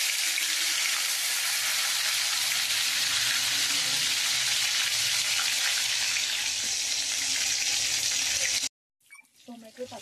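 Hot oil in a kadhai fries with a loud, continuous sizzle for most of the stretch, then cuts out abruptly near the end, followed by a few faint sounds.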